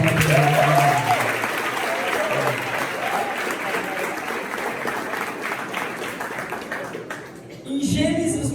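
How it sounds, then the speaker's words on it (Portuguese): A church congregation gives a youth preacher a loud round of applause, thick sustained clapping with a few voices that fades, then a speaking voice returns at the end. "dá uma salva de palmas para ele"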